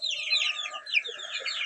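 Chicks and hens in a small coop, with a continuous chorus of high peeping chirps layered over soft low clucks, fairly quiet and steady throughout.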